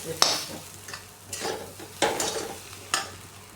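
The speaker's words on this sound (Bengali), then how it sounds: "আর এর মধ্যে আমি অল্প পরিমাণে একটু আমচুর পাউডার দেবো, দিয়ে এটাকে কষতে থাকবো।" Potato filling with amchur powder being sautéed in a pan for Bengali egg devil: rhythmic spatula scrapes and stirs over a soft sizzle, close and intermittent.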